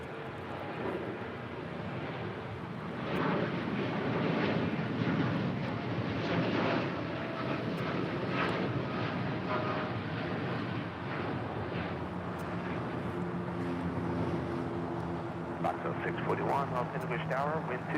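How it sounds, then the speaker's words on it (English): A Lufthansa A350-900 widebody airliner arriving from Munich to land on the north side at LAX, its broad steady jet roar loud and sustained throughout with talk running over it. "the Lufthansa A350-900 coming in from Munich, about to land on the north side"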